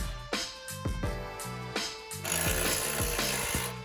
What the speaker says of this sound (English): don't forget to snug up these bolts inside your winch mount.